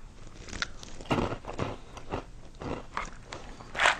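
Crunchy Fruit Loops cereal taken from an airtight storage container is bitten and chewed, giving several sharp, close crunches spread over a few seconds with quiet gaps between them and no talking.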